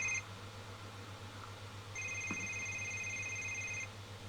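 Cell phone ringing in a TV show scene, a thin electronic ringtone in two bursts, the longer one about two seconds, heard over a low hum with no talk.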